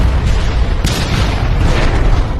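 A loud cinematic explosion plays as a falling ceiling fan crashes to the ground in a movie scene, a dense, sustained roaring boom that fills the whole moment without letting up.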